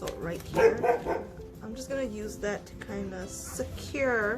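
A dog barks and whimpers indoors in a series of yips under steady talking from a nearby person.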